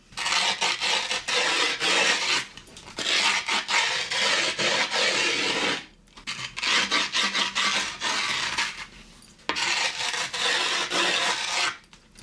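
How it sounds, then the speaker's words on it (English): Metal screwdriver shaft scraping hard along the edges of skateboard grip tape, a loud, steady rasping in three long sustained passes separated by short pauses. "take the metal shaft of this old screwdriver, and I'm going to just do that around about the edges"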